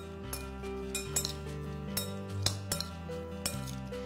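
A spoon mixing red bean salad in a bowl, making soft, irregular clinks and scrapes against the dish. The clinking is faint and close, over a low steady background.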